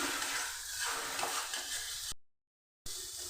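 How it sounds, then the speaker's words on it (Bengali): Spice paste for Bengali chicken kasha is sautéed and stirred in a pan, giving a steady close sizzle and scraping that cuts to silence briefly near the end before resuming. "এভাবে আমি মশলাটাকে কষিয়ে নিচ্ছি"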